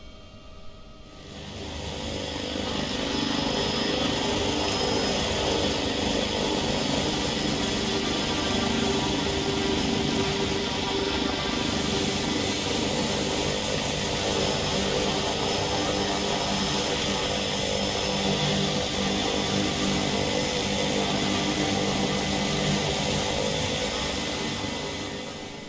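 A helicopter in X-Plane 11 drones steadily through a landing approach at Heathrow, a loud continuous rotor and turbine roar that holds without a break for the whole stretch, with no talk over it.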